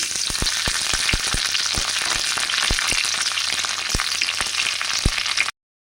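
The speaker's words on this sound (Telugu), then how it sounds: "ఆయిల్ హీట్ అయ్యాక జీలకర్ర, ఆవాలు, పచ్చిమిర్చి, కరివేపాకు వేసి వేయించుకోండి" Cumin, mustard seeds, green chillies and curry leaves fry in hot oil in a kadai, a steady close sizzle with frequent sharp pops and crackles of seeds spluttering throughout.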